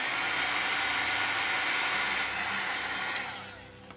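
A heat tool blows steadily and loudly at close range while drying watercolor pencil on a cowboy boot, a constant broadband whoosh that begins to wind down near the end.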